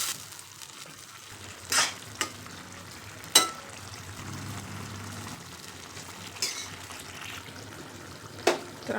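Yogurt being stirred as it fries in a pan for vegetable dum biryani, a steady low sizzle with occasional sharp scrapes of the spoon against the pan.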